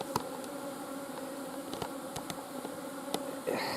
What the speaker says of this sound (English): There is a lot of bees here